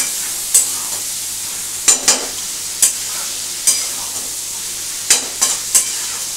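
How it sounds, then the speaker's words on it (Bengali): Eggplant and shrimp are stirred and fried in a pan, with a low steady sizzle under a series of sharp, spaced scrapes and clanks of the spatula, about eight of them, close and clear with no talk. "এটাকে একটু ভালো করে ভাজতে হবে।"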